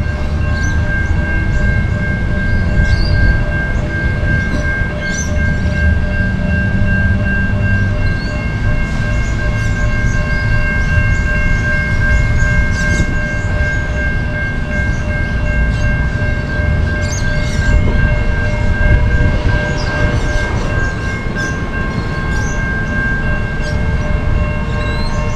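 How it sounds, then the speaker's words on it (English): A train running from Adelaide north to Gawler rumbles past loudly and steadily for a long stretch, a heavy mechanical roar with sustained whining tones running through it. "Now we're waiting for same train heading north from Adelaide to Gawler, which will pass in a few minutes."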